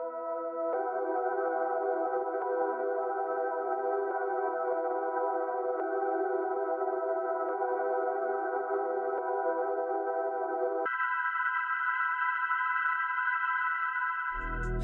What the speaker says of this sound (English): So let's hear this with the effects